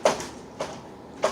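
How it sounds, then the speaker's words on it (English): A dog opening a patio door at home, three separate knocking clatters of the door moving, each a short sharp hit followed by a brief rattle, fairly close and with no talk. "That's my dog opening the patio door on her own because she heard something outside."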